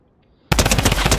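Rapid automatic gunfire in the video game Fortnite starts abruptly after a short near-silence and continues as a loud, dense stream of shots.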